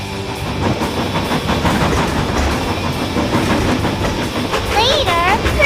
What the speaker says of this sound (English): Later, Percy was pulling the mail train.